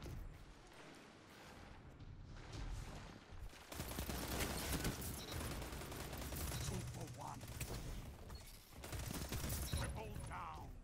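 Null Calamity auto rifle gunfire in the Destiny shooter game, rapid sustained automatic bursts, dense and loud, running nearly throughout with brief gaps and other combat effects, a player talking over it at times.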